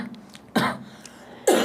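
Two short coughs or throat-clearing bursts, about a second apart, close and fairly loud in a quiet room, with no talking.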